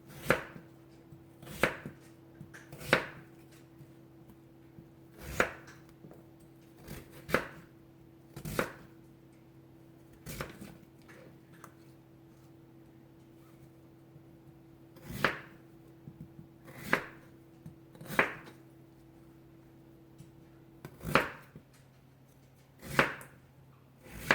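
Radish and other vegetables for dongchimi are chopped with a knife on a cutting board, producing crisp, distinct thuds spaced irregularly a second or more apart, close and clear against a low steady hum, with no talking.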